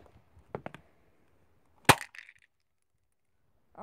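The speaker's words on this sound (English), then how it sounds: "The same piece fell off." A burned fidget cube is struck, giving a few quick light knocks, then one sharp, loud crack as a piece breaks off, with a brief rattle after; the clip is otherwise quiet.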